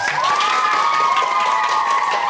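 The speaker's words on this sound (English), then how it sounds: "Give her a big round of applause." A crowd of children cheers and claps for a teacher of the week at a school, loud and continuous, with a sustained shouted voice riding over the applause.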